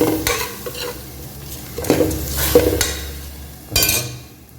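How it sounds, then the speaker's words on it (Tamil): A spoon stirs chopped coriander and mint into a pot of mutton dum biryani, giving a few scraping, rustling passes with a faint sizzle beneath, loudest near the middle and with a final scrape at the end. "நண்பா இப்போ கொத்தமல்லி புதினாவும் மிக்ஸ் பண்ணிடுறேன்"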